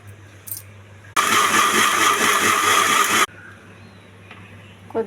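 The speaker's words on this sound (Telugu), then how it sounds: "మిక్సీ వేస్తున్నానండి" A mixie (mixer grinder) blends washed grapes with water in its jar for juice: one loud, steady whirring motor burst of about two seconds, abruptly starting and stopping, with quiet before and after.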